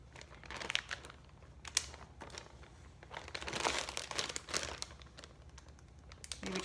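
Ziploc freezer bags being pressed shut and sealed, a run of soft crinkling plastic rustles and clicks at close range, fairly quiet and irregular throughout.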